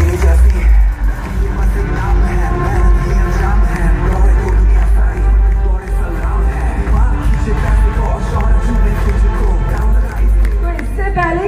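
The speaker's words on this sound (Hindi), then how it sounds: "जोरदार तालियां भरी।" Loud, dense applause and cheering from a live audience at a fund-raising show, a steady roar of clapping and crowd noise holding for the whole stretch without letting up.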